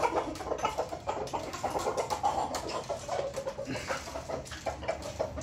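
Gamefowl roosters and stags of a McLean x blues cross cluck in a clean coop, with overlapping, busy calls and chirps that continue steadily at close range.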